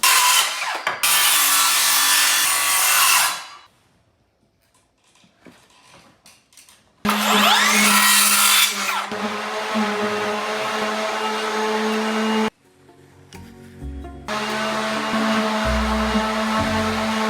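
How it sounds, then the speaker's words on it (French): Painted wooden roof trusses being sanded, a loud, rough, continuous rasp in three long bursts separated by short pauses and near-silence. "Pendant que l'ami Fredo est en train de poncer les fermes, la charpente"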